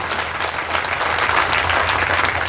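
Steady, dense applause from a large crowd at a farmers' protest gathering at a toll plaza, continuous and loud throughout with no pauses.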